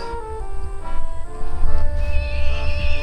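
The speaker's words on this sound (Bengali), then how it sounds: "এখানে একটা ঘোড়া তেমন একটা শব্দ করতেছে" A horse neighs in a drawn-out whinny, fairly close and clear, with a higher squealing note toward the end; no one speaks.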